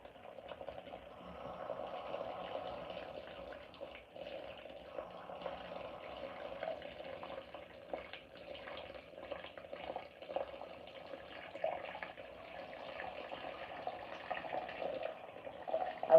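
Water runs steadily into the drum of a G&W washing machine at the start of a heavy wash cycle, a faint, continuous low gurgling hiss with no talking.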